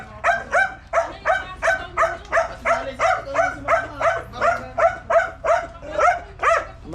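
A dog barks in a steady run of about fifteen sharp, evenly spaced barks over a few seconds, fairly close and loud, outdoors with no talk over it.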